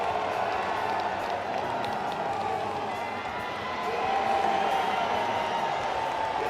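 Stadium crowd at a strongman competition roaring and cheering steadily to urge on a lifter, a dense wash of voices and clapping that swells louder toward the end.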